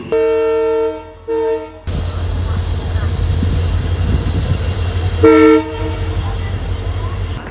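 A Humsafar Express pulls into Hanumangarh railway station, sounding its horn in two blasts before a steady rumble of rolling wheels and wagons; a shorter horn toot follows, loud and close.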